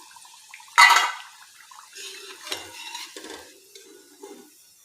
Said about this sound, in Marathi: उरलेल्या पिठाच्या अशाच मस्त भज्या तळून घेऊया.